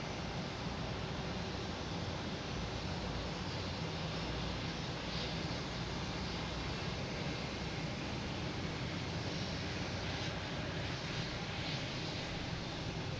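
A JetBlue airliner departing Boston Logan Airport makes a broad, steady jet roar that fills the scene evenly at moderate loudness, without talk.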